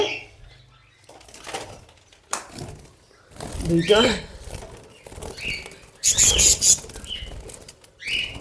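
Small white pet birds from a home aviary flap their wings in short, loud bursts as they are handed over for delivery, with people talking close by throughout.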